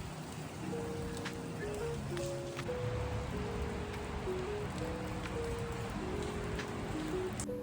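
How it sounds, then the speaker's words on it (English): Rain falls outdoors at the Palace of Fine Arts in San Francisco, a steady close hiss that runs throughout beneath a gentle stepping melody. "It is rainy and chilly"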